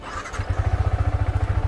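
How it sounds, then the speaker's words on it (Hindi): A motorcycle cold-starts and settles into a steady, rapid thumping idle, close and loud, with no talking over it. "बाइक का करता हूँ कोल्ड स्टार्ट पे एंड 3 2 1 गो"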